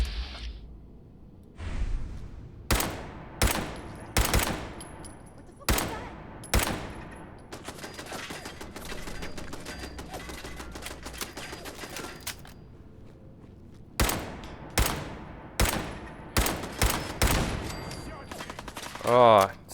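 Automated turret gunfire in Fallout 4, with loud sharp bursts in a ragged rhythm, a longer sustained stretch in the middle, then more clustered shots near and punchy with a little scuffling between them.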